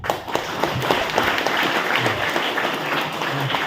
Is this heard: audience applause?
yes